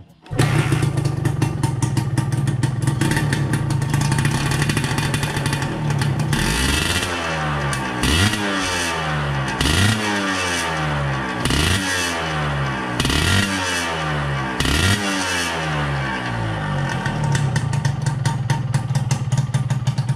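A Suzuki Satria two-stroke motorcycle engine runs up close, settling into a loud, buzzy idle broken by a string of rhythmic blips of the throttle in the middle before returning to a steady idle.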